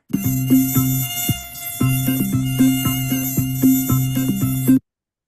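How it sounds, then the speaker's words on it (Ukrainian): A loud, high-pitched mosquito whine drones steadily, with rhythmic pulsing beneath it, then cuts off abruptly into silence. "Так, це комар."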